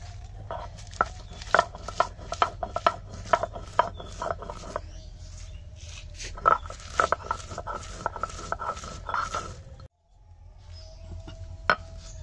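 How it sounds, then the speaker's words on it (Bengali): Spice paste for puchka filling is ground by hand on a stone shil-pata, with a rapid run of sharp knocking strikes, a brief pause, then a few more clacks over a low steady hum. "এর এবার এটাকে বেটে নেবে শিলপাটায়।"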